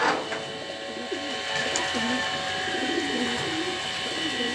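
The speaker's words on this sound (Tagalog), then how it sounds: "Pang 9 na tayo dito. Si red check natin." Pigeon cooing, with racing pigeons arriving at a loft, repeats in low warbling phrases throughout. A steady hiss sits underneath, and a person's voice is faintly present.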